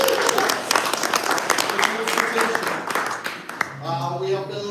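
Audience applause at a community group presentation, a burst of clapping from a crowd that fades out as a voice speaks.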